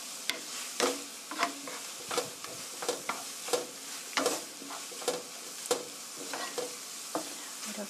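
Pork stir-fried in soy sauce in a pan, a steady sizzle broken by repeated scraping stirs roughly every half second, close and moderately loud with no voices.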